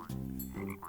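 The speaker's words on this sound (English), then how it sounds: "Oh, it's a frog." A frog croaks twice in quick succession, each call a low, throaty, harmonic rasp, close and fairly loud with no talking over it.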